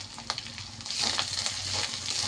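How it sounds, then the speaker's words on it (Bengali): Ginger and garlic frying in a pan, a soft crackling sizzle with a few scraping stirs that grows slightly louder partway through. "তো আদা রসুনটা আমি একটু ভাজা ভাজা করে নিলাম যাতে কাঁচা গন্ধটা চলে যায়"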